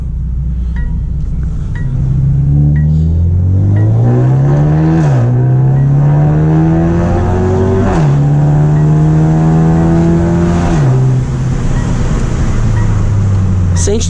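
A Mercedes A35 AMG with a Stage 2 remap and downpipe accelerates hard, its loud engine note rising through several gears with clear shift dips. The car sounds close and steady for the whole stretch.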